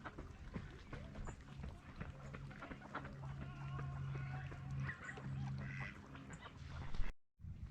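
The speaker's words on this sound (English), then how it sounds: "So there's one seagull there with all of the ducks." Ducks quack on the water with a single seagull among them, a busy cluster of repeated nasal quacks close by, with low background noise on a walk through a park on Bainbridge Island, Washington.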